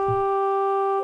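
A single dry synth note holds steady for about a second, clean and close with no echo or reverb, after a brief low thump at the start.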